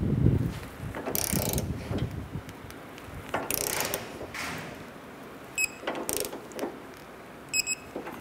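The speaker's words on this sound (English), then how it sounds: "Let's go ahead and torque these bolts down to 107 foot-pounds" Torque wrench tightening subframe bolts on a 2006-2013 Chevrolet Impala to 107 foot-pounds, with close ratcheting clicks and metallic creaks in bursts amid shop noise.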